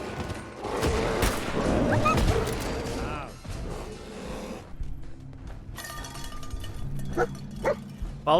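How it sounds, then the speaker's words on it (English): A pack of wild dogs barks and yips during a fight in Fallout 4, with loud overlapping barks and game combat noise early on, then sparser sounds and effects after a brief lull. "we encountered a pack of wild dogs"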